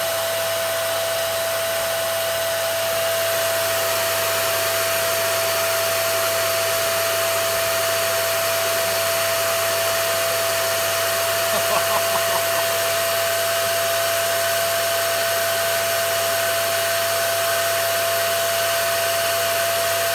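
A Hoover Dustmanager vacuum cleaner runs continuously with a loud, steady roar and a constant high whine, with a brief rattle partway through.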